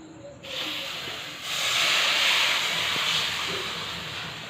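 Water poured into a hot pan of spicy semolina bursts into a loud, sustained hiss that swells after a moment and then slowly eases, close up with no talking.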